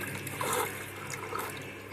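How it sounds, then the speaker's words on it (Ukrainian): Clean water runs out of an underfloor heating loop while it is being bled of air, a steady close rushing and splashing flow into a bucket that keeps going without a break. "Водичка чистенька біжить."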